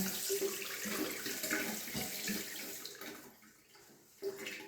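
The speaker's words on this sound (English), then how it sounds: "Go ahead and rinse that out again." Tap water runs steadily into a bathroom sink as it is rinsed out during cleaning, a continuous close splashing stream that thins out near the end with a brief final gush.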